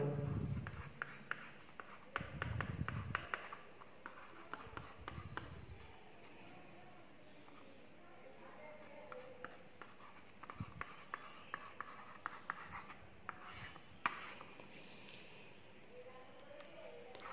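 A stylus scratches and taps across an LCD writing tablet while alphabet letters are written, with soft intermittent strokes; someone speaks over the start.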